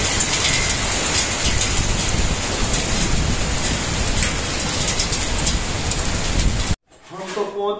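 Steady heavy rain pours and hisses loudly for several seconds, then cuts off abruptly, leaving a brief quieter stretch with a voice.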